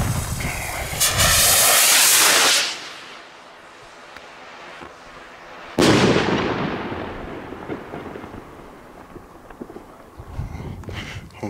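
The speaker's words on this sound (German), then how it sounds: "wir testen jetzt noch die 65 Gramm Raketen von Classic" Classic 65-gram firework rockets launching with loud rushing hisses, followed by a crackling explosion and fading sizzle, then another hissing launch and a bang, heard outdoors and close to the launch point.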